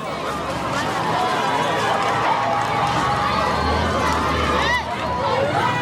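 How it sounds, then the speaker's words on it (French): A crowd of residents in the Central African Republic suddenly surges and runs near disarmed Séléka militiamen: a loud, unbroken roar of hurried footsteps and overlapping shouting voices that barely eases before picking up again. "Soudain, un mouvement de foule."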